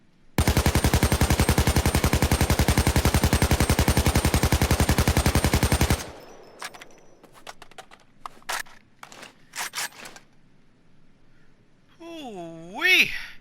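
An AK-74 assault rifle fires a long full-auto burst in the game Payday 2, a fast, even, loud stream of shots lasting about six seconds. Scattered metallic clicks and handling noises follow, then a warbling electronic tone.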